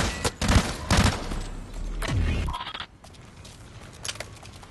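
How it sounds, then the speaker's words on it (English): Rapid bursts of gunfire in the video game Blacklight: Retribution crack and boom in quick succession, loud at first and then thinning into scattered, more distant shots. "I just hear a lot of shooting."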